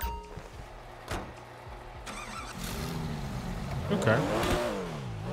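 A Porsche sports car engine in GTA 5 revs and accelerates with rising, sweeping pitch that swells toward the end. A short spoken word comes early.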